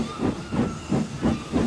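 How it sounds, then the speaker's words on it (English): Rhythmic chuffing hiss of a small steam engine pulling away, regular bursts of steam repeating about every third of a second, moderately loud and close with no voices. "The guard blew his whistle, and Percy set off quickly"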